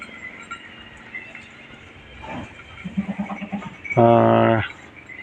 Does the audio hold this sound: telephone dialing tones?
no